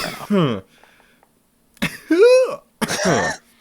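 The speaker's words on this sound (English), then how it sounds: "created an auto-tune cough" Several short, tonal auto-tuned cough bursts separated by pauses, with pitched, warbling voice-like harmonics, loud and close.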